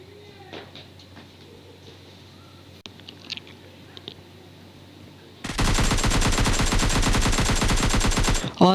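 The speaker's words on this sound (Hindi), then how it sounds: "दो बंदे अंदर मेरे पे फायरिंग शुरू कर देते हैं" Rapid automatic gunfire erupts in a PUBG Lite solo ranked match, a loud sustained burst of closely spaced shots after quieter footsteps and faint distant pops.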